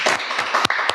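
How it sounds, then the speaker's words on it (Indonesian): A few scattered hand claps sound in a podcast studio conversation about Indonesian film, several separate sharp bursts with short gaps between them, close and fairly loud. "Tepuk tangan gue."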